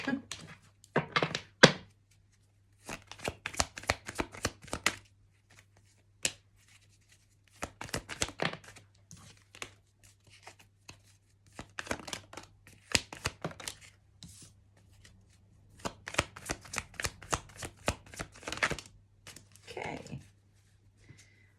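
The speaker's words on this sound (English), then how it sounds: "A little shuffle." Bursts of crisp riffling and soft tapping as a deck of tarot cards is shuffled, in several separate rounds with short pauses, close by and moderately loud.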